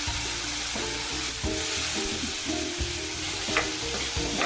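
Ridge gourd goes into a hot, crackling tempering of oil and tomatoes for a thin curry, sizzling steadily close up while being stirred, with repeated scraping and clacking of the spoon.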